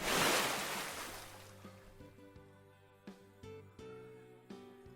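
Water splashing in an anime-style video game as characters throw water at each other, a broad wash of splashing at the start fading out while soft game music with light chimes carries on.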